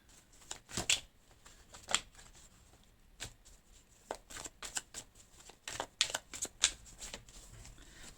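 Tarot cards cut and stacked into three piles, producing soft scattered riffles, slaps and flicks of card stock, faint and close with irregular gaps between bursts.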